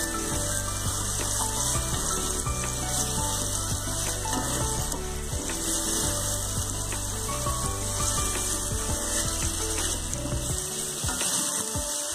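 Chicken fries in a ginger, garlic and green chili masala for a Pakistani chicken karahi, a loud, steady sizzle running throughout with occasional stirring clatter underneath.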